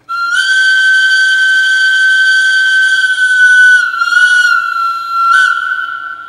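A model locomotive horn sounded from a MASSOTH DIMAX Navigator controller: a loud, sustained, steady whistle-like tone lasting nearly four seconds, followed by two short toots, heard alone.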